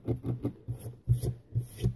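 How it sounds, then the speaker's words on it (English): Fingers rubbing excess glue off the front of a handmade no-chipboard album, a series of soft, close rhythmic rubbing strokes, roughly eight in two seconds, with no talking. "I've got glue along the front here that I'm just going to rub off."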